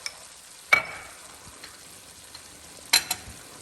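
Garlic frying in a pan with tomatoes gives a quiet, steady sizzle, broken by a couple of sharp utensil clinks against the pan.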